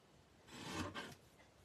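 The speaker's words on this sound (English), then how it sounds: "And then I'm just going to bring in my mini trimmer." A single short rasping slide as a small Stampin' Up! mini paper trimmer blade cuts through paper, close and soft, lasting under a second in an otherwise quiet room.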